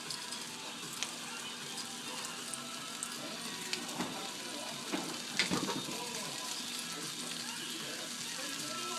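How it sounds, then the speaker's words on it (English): Garlic shrimp simmering in a pan gives a steady, broadband sizzle and bubbling the whole way through, with a few clinks and stirring knocks near the middle. Light talk can be heard underneath. "Let that simmer for a second."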